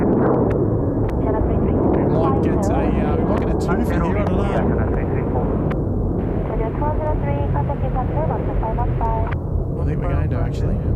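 A jet roars continuously at Seoul Incheon airport while taxiing or taking off, a loud, steady rumble heard from outside, with people talking over it throughout.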